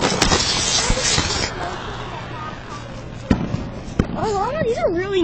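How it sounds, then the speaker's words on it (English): Fireworks going off outdoors: a steady crackling hiss broken by a few sharp, loud bangs, with wavering whistle-like tones rising near the end and voices in the background. "this is fucking fireworks"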